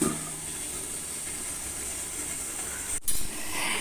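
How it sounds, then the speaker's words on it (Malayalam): String hoppers (noolappam) steam in a covered pot with a steady, faint hiss throughout, broken once by a brief metallic clink near the end. "നമുക്കതൊന്ന് മൂടി വെച്ച് ആവി കയറ്റി എടുക്കാം"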